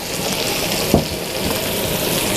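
A little water goes into a cooking dish over a steady background hiss, with one brief splash near the middle.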